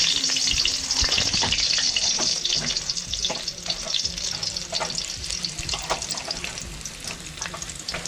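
Garlic sizzles and crackles as it fries in a pot for a Jamaican kidney and rice dish, with a steady loud hiss and occasional stirring clinks throughout.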